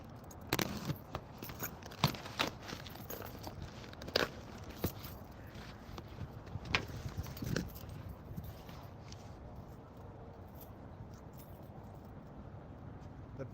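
A large sharp key scrapes and tears at a package, heard as faint, scattered clicks and scratchy bursts in a quiet room, with no one speaking.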